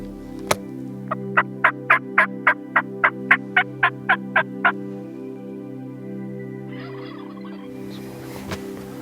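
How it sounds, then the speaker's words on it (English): A wild turkey gobbler lets out a loud, rapid run of about a dozen rattling gobble notes close by, followed by quiet and a brief rustle at the end. "With gobblers being heard just a short distance away"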